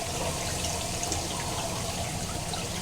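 Aquarium water scooped into a cup to acclimate a lionfish, a steady close-up wash of trickling, splashing water with no talk.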